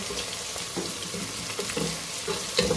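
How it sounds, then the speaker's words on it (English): Steady, dense sizzling and crackling of onions frying in a hot pan for gari foto, with a few soft clinks of a utensil now and then. "our onions are frying already"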